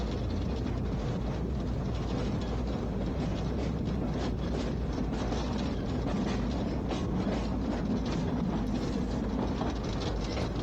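A locomotive hauling a goods train on the narrow-gauge line at Statfold, a loud, continuous rumble of wagons rolling past with steady rattling and faint rhythmic clicking from the rails.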